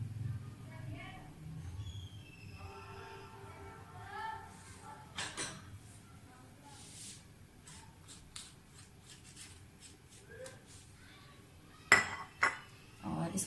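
Spices tipped into a bowl of mashed potatoes, with utensils clinking and scraping against the bowl in scattered quiet taps and a couple of sharper knocks near the end.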